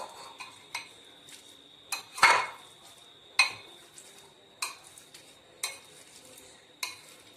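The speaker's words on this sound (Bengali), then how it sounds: "এবার এই ম্যাশারের সাহায্যে আমরা পুরো ডিমটাকে ভালো করে মাখিয়ে নিচ্ছি, গুঁড়ো করে নিচ্ছি" A masher works boiled eggs and mayonnaise together in a bowl, making a run of separate soft clinks and squishy taps spaced about a second apart, with one louder clatter early on, close and with no talking.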